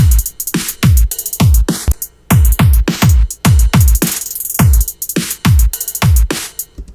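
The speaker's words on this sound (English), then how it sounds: "it creates kind of a cool sweeping effect" A punchy drum beat with deep kicks and bright hits plays while a narrow notch filter sweeps up and down through the sound, giving a swirling, phasing motion.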